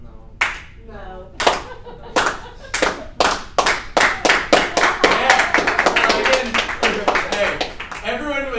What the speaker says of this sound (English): I can't resist the 80s clap.